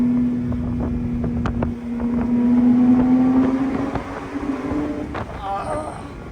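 Porsche 911 Speedster engine under way, a steady droning note that rises slightly in pitch mid-clip, with wind rush over the open car and a voice speaking over it.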